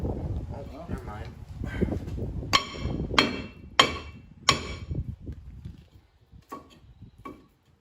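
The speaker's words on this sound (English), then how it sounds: "Try hitting it with the hammer and see if it comes off." Several sharp metallic hammer blows strike a 2006 Chevrolet Impala rear brake rotor to knock it loose, four loud hits spaced about a second apart, then two lighter taps, with people talking at a workshop throughout.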